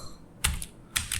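Two quick keyboard key-press bursts as text is entered in Microsoft Word, close and clear against a faint room hiss, with no voices.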